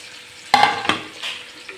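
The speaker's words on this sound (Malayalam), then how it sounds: "പെരിഞ്ചീരകം പൊട്ടി വരുമ്പോൾ അതിലേക്ക് ഒരു നാല് സവോള സ്ലൈസ് ചെയ്തതാണ് ആ കൂടെ നാല് പച്ചമുളകും കൂടെ ഇട്ട് നന്നായിട്ടൊന്ന് വരട്ടിയെടുക്കണം" Sliced onions and green chillies sauté with fennel seeds in a pan for a chicken curry, giving a soft frying sizzle broken by two or three close scraping stirs.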